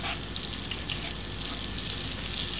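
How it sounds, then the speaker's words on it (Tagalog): Garlic sizzles as it drops into hot oil in a pan for chicken adobo, a steady close crackling hiss with no pause and no talk over it. "Lagay na po natin yung bawang"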